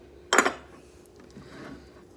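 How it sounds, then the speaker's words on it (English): A spoon scraped clean of salt dough leftovers, one short bright clattering scrape near the start followed by faint softer scuffs, close and quiet otherwise. "I'm just scraping off the leftovers from my spoon"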